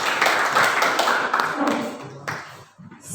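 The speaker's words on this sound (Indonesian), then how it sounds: "Berikan tepuk tangan yang meriah untuk pasangan nomor urut 1 dan pasangan nomor urut" Audience applause at a high school student council candidate debate in an indoor hall, a dense patter of clapping that holds steady and thins out toward the end, with no voices over it.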